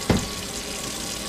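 Hot water runs from a kitchen tap into a sink to warm it for soap, a steady close hiss with a brief splash at the start.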